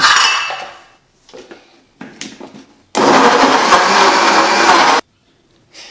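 A kitchen blender whirs loudly for about two seconds while blending carrots for carrot cake batter, preceded by clinks and knocks of the jar and lid and followed by silence.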